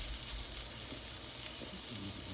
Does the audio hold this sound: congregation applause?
no